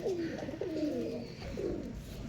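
Pigeons in a home loft make soft, rolling coos close by, a few overlapping calls over a faint background hum.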